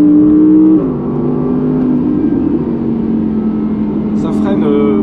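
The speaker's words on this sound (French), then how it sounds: "Ouf, il est violent le rupteur." A 2019 Audi R8 V10 Performance Decennium engine holds loud, high, steady revs against the rev limiter, then dips briefly and hangs on at a strained, buzzing pitch.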